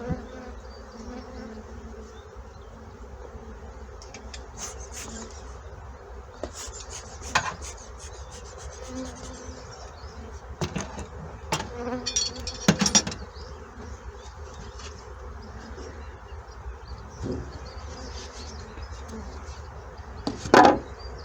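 Honey bees buzz around beehives during queen rearing, a continuous close hum mixed with scattered rasping, scraping and clicks of hive handling.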